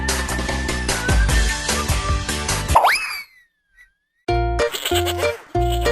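A cartoon goat from a children's farm-animal song gives a short wavering bleat that breaks out of loud bouncy music with a boing, followed by a brief silence before the music returns.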